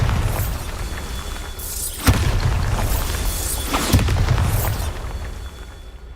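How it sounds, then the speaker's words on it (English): The Bombarda explosion spell in the video game Hogwarts Legacy: two loud, close booming blasts a couple of seconds apart, each with a sharp crack and crumbling debris, over a continuous low rumble, with no talk. "Bombarda."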